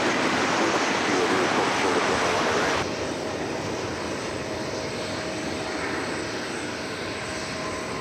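American Airlines flight from Colorado Springs touching down at Dallas Fort Worth airport: a steady, loud broadband jet roar that drops slightly in level partway through and carries on as a continuous rushing drone.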